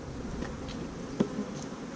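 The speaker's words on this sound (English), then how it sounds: "Bees, nice and passive" Honeybees at hive frames give a soft, steady buzzing hum during an inspection, low in level, with a brief faint tap partway through.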